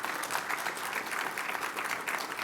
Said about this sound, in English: please join me, warm round of applause for our fantastic panel